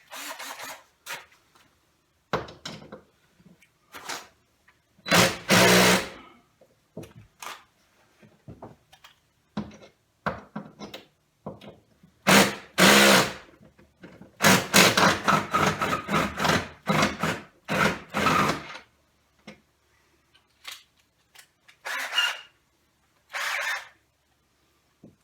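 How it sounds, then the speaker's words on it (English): Cordless drill at work on a wooden china cabinet, sounding in repeated short bursts of whirring with brief pauses between them, loud and close, with some trigger pulls sputtering as the battery runs low. "Usually when the drill starts doing that, it means it's running out of juice."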